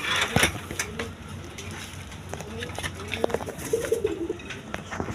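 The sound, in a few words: pair of pigeons cooing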